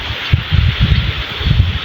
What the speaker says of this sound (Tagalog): Yung hangin lang. Yung hangin, oh.